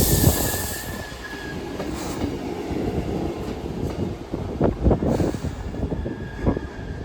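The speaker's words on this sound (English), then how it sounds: "Also arriving in as Northern service from what I believe Misborough to Hexham." Northern service train arriving at Newcastle station, a close rumbling roll with clattering wheel beats and a thin squeal of wheels on rails, growing busier as it comes in.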